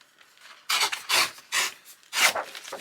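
Paper being torn by hand for a journal page edge, heard as four short, close ripping strokes in an uneven rhythm against a quiet background.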